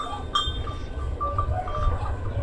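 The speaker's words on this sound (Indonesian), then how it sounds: "Kali ini peternakan kambingnya itu ada kambing Jawa dan Ibak." Javanese and Etawa goats on a traditional free-range goat farm, several bleats and calls rising over a steady low rumble, with a brief clink of metal, moderately near.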